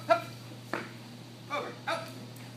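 A young black German Shepherd in protection training gives four short, faint barks and yelps, spaced irregularly over a low steady hum in the background.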